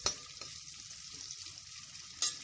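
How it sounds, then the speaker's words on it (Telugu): One cut onion fries in about three tablespoons of oil for mutton gravy, a soft continuous sizzle under two sharp clinks of a spoon against the pan, one at the start and one near the end. "ఒక 3 టేబుల్ స్పూన్ల ఆయిల్ వేసుకొని ఒక ఆనియన్ కట్ చేసి ఆనియన్ వేసుకోవాలి"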